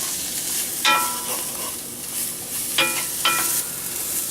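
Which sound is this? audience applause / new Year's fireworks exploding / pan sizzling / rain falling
pan sizzling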